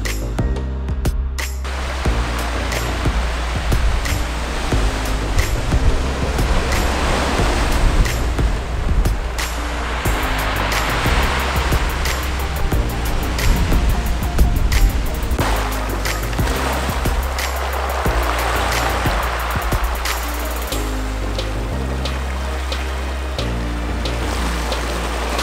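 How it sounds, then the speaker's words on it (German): Sea waves wash over a pebble beach at Sol d'en Serra on Ibiza's east coast, a continuous rushing surge with rattling stones, blended with steady background music. "dem Klappern und Klirren und den Geräuschen des Meeres zu lauschen, wenn die Wellen an Land branden und die kleinen Kieselsteine mit sich bewegen"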